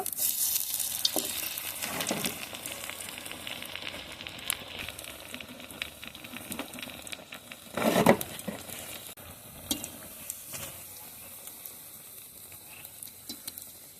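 Oil sizzles and crackles steadily as pumpkin leaf fritters fry crisp in a pan, with occasional louder bursts and utensil scrapes, no voices.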